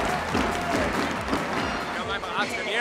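A basketball arena crowd applauds steadily during a Telekom Baskets Bonn versus Fraport Skyliners game, a dense, continuous wash of clapping with an announcer's voice running over it.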